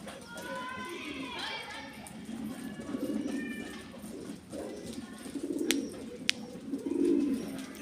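Pigeons coo softly in a loft in low, rolling calls that come and go. A person talks over them, and a few sharp knocks are heard close by.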